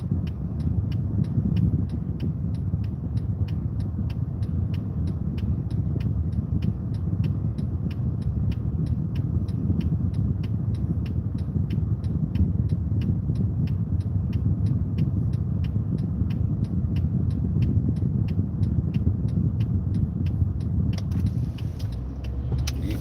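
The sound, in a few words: car driving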